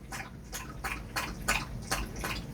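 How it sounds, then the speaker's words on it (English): A dog laps water in a quick, steady rhythm of wet slurping splashes, close by and fairly quiet. "I hope you guys can hear my dog drinking water."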